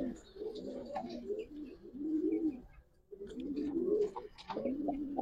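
Pigeons coo in low, repeated throaty phrases while people talk nearby, from a Bangladeshi pigeon seller's flock that includes Jhakgola, Silver, red and black Dobaj, Army and Gorra birds.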